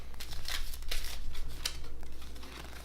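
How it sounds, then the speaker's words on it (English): Space Base board game market cards being shuffled by hand, a soft, continuous papery riffling and rustling at low volume over steady background hiss, with no talking. "So take each of the 3 stacks and shuffle them up"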